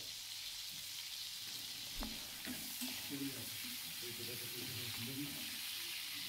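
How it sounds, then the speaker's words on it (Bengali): Shrimp frying in hot oil in a wok, a steady loud sizzle and hiss throughout with faint stirring clatter beneath, no voices. "কড়াইতে তেল গরম করে প্রথমে চিংড়ি মাছগুলোকে ভেজে তুলে নেব।"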